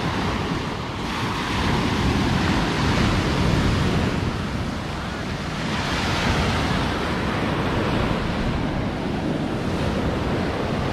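Surf breaks and washes steadily along a hot, crowded Colombian beach, a loud continuous roar of waves mixed with gusty wind buffeting the microphone, with no talking.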